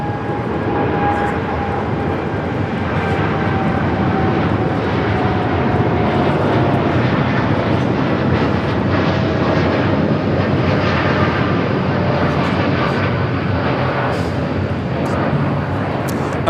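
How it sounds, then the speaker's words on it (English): An American Airlines Boeing 787-8 Dreamliner taking off at LAX bound for Miami, a loud sustained jet engine roar with a steady broad rush and faint whining tones, unbroken throughout. "American Airlines 914 taking off to Miami, Florida on the 787-8 Dreamliner."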